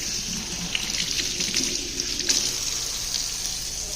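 Water runs steadily from a tap in a newly built house during a builder-repair inspection, a continuous hiss lasting the whole stretch with no talk over it.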